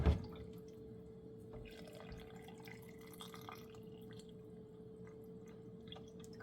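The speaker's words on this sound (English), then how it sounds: "Now we're going to add water to each of these" Water pours and drips faintly into glass canning jars, filling black-eyed peas to one inch headspace, with a steady low hum in the background and a brief clink at the start.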